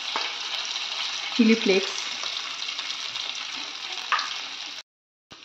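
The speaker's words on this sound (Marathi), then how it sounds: "चांगलं परतून घ्यायचं आहे आपल्याला बॉल" Rava (suji) balls sauté in a pan with white sesame seeds, hing and chili flakes, giving a steady close sizzle with a few stirring scrapes and a brief spoken word before it cuts off.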